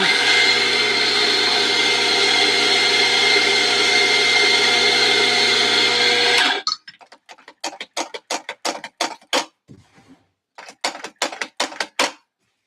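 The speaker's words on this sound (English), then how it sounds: "We're going to start grinding some more coffee." Electric grinder milling coffee beans for espresso, a loud continuous whirring grind for about six seconds, then abrupt silence followed by a rapid series of sharp taps and knocks.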